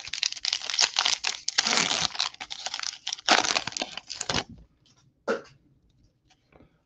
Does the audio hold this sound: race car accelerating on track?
no